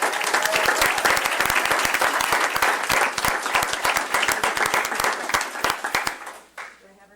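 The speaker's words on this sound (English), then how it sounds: "Ladies and gentlemen, let's give a round of applause to Vanessa Ramirez," A city council audience claps for a twelfth-grade student of the month. Loud, close applause with distinct individual claps rattles on for about six seconds, then thins out and stops.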